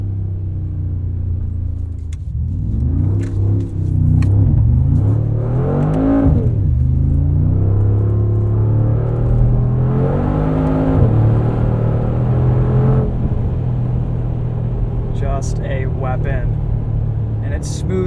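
A 2020 Mercedes-AMG G63 on winter tires accelerates hard through snow, its engine rising in pitch through surging revs and gear changes, loud and close, with someone talking over it.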